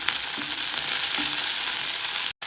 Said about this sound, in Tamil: அந்த எண்ணெயிலேயே இந்த பிரண்டையை போட்டு அடுப்பை நல்லா சின்னதாக வச்சுக்கிண்டு இதோட நல்ல நிறம் மாறுற மாதிரி வதக்கணும்.